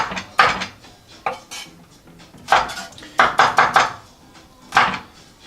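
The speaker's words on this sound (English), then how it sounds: "And then I cut across the onion." Knife chopping through an onion on a cutting board, a series of sharp, irregular close-up knocks in small clusters with short pauses between them.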